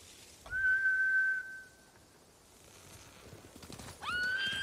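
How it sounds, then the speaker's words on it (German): Horses neigh in the Ghost of Tsushima video game: a loud, long whinny stands alone near the start, then quiet, then a second whinny cluster begins near the end. "Die Hunde haben die Pferde verjagt. Das sind Samurai-Rösser."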